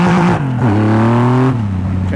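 Engine of a 2014 Triumph Rocket 3 Roadster motorcycle, Carpenter Racing tuned, revs hard and climbs in pitch as the rear tire briefly spins under acceleration, loud and close, with a quick drop and second rise.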